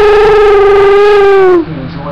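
A person imitates Chewbacca with a loud, sustained, distorted warbling growl that holds steady for about a second and a half, then breaks off into a rough, raspy trailing sound.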